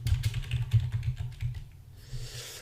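Typing on a computer keyboard at close range: a quick run of key clicks with a steady, busy rhythm that eases off toward the end, with no talking.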